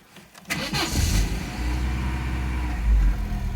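A Vauxhall Astra F GLS saloon with a 1.6 16V petrol engine cranks briefly and catches, then settles into a steady, close idle rumble with a slight rise in revs near the end.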